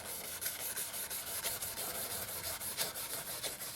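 Steady rhythmic rubbing of sandpaper worked back and forth in opposite directions over a Gibson SG guitar, the scratchy strokes repeating evenly and close by with no talking.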